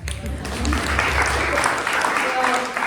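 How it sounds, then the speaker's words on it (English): Audience clapping for a speaker at a live talk, a steady burst of applause that swells and holds, with a voice speaking over it. "clap for him"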